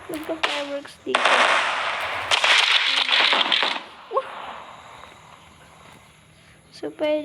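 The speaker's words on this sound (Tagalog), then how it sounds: "Nagka-fireworks dito." Fireworks and firecrackers go off in the game Fireworks Play as sustained crackling bursts and sharp pops, loud and close, while someone talks in Tagalog over parts of the barrage.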